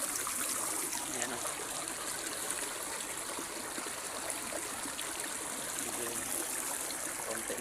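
Water flowing in a village river, a steady, close rushing and trickling babble that stays at an even level throughout, with no voices.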